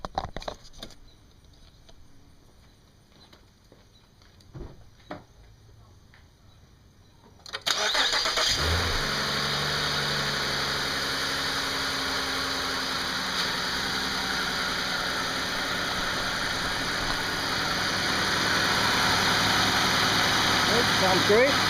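A 2013 Mazda CX-9 engine cranks and catches after a spark plug replacement, then settles into a steady, close idle that holds loud and even for the rest of the clip, with light clicks and handling noises heard before the start.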